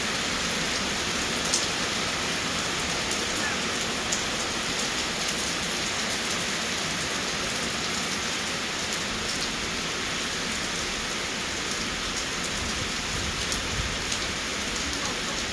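Steady heavy rain pours down throughout during a storm with rain and wind in Laos, a dense, continuous hiss of drops on surfaces, close and loud, with no voices.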